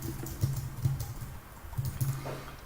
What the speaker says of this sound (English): Type your name in.